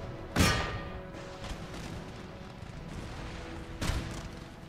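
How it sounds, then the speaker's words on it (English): Cannons fire in the Empire Total War strategy game, two sharp booming blasts several seconds apart, each with a trailing rumble over a low battle ambience, no voices. "I want all cannons to break a hole here."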